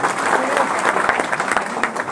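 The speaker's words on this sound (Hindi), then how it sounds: "एक बार ताली बजा दीजिए" Seated audience at a business training seminar clapping together, a steady wash of moderately loud applause with light crowd murmur underneath.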